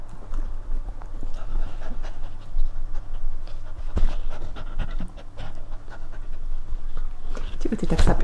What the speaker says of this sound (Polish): Czego ty tak sapie?